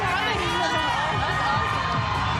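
A lively crowd cheers and shouts steadily throughout, encouraging a woman competitor during an individual CrossFit event at the Rogue Invitational, a dense continuous roar with no pauses.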